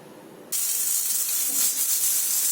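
A pressure cooker cooking masoor dal bursts into a loud, sustained steam whistle that starts abruptly and holds steady as a continuous hiss, with no talking.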